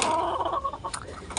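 A molting chicken gives quick, close clucks and short calls, sounding steadily through the clip with no one speaking.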